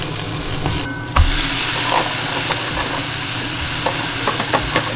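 Shiitake mushrooms sizzling in a home kitchen pan, a continuous close hiss of frying with a utensil stirring and scraping, one sharper clatter early on and scattered light taps.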